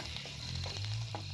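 Green chillies, onion and garlic fry in a wok, giving a short burst of continuous hissing sizzle over a low hum.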